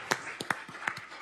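A handful of sharp, scattered hand claps from an audience at a city commission meeting honoring a champion high school cheerleading team, sounding as a few irregular, moderately close slaps against a quiet room rather than full applause.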